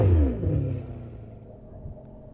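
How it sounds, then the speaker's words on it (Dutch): A Ferrari engine revving, a loud low rumble that swells and then eases back to a steady idle, close by and alone with no talking. "bij een Ferrari draait het natuurlijk allemaal ook om het geluid van de motor"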